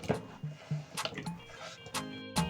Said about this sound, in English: So now I'm going to transfer my potatoes in a bowl with water.